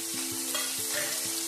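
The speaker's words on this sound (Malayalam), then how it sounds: "ഇനി ബാക്കിയുള്ള പച്ചക്കറി നമുക്ക് അങ്ങോട്ട് ചേർത്ത് കൊടുക്കാം" Vegetables such as yam, potato, bitter gourd, beans, cucumber, brinjal, carrot and snake gourd are stirred into softened onions frying in a pan for a mixed vegetable curry, with a steady sizzle and several distinct stirring scrapes, with no talk.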